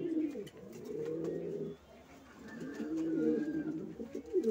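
Pigeons, males and females, coo outdoors in repeated low, throaty rolling calls that overlap with one another, close and steady, with no talking.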